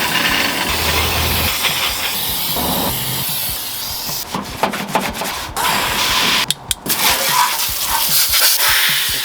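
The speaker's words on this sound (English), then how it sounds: "It's the heavy duty gel. I'm gonna spray this pretty much on everything." Heavy duty engine degreaser gel is sprayed across a car engine bay in short hissing bursts over a background of rubbing and handling noise. Nobody talks.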